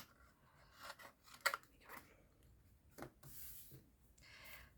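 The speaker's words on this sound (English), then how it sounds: "I just have to trim that off a little bit." Paper card being trimmed with scissors during gift box crafting, a few quiet snips and rustles spread over several seconds, faint and close, with no talking.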